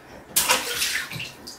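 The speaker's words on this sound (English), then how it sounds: "And the splashing begins." A child splashing water in a bubble bath: a sudden burst of sloshing and spattering, followed by continued watery splashes at close range.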